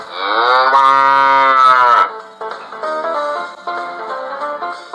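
Bullocks held among a herd of 85 at a police station lowing loudly: one long, strong moo up close for about two seconds, then further overlapping calls from other cattle.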